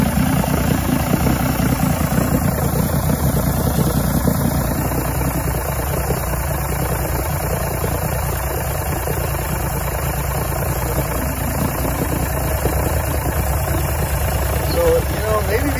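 A 1986 85 hp Force outboard engine on a Bayliner runs steadily in gear, a loud continuous droning rumble with a constant high whine, with no talking over it.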